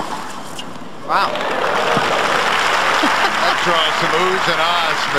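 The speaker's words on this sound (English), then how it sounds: "draws some oohs and ahs from the crowd" At the 1998 US Open, during a Venus Williams and Lindsay Davenport tennis match, the crowd suddenly bursts into oohs, aahs and sustained applause after a quiet moment, with a commentator's voice over the noise.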